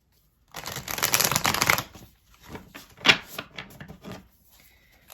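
A deck of cards is riffled in one quick burst, followed by a few softer taps and slides of cards being handled.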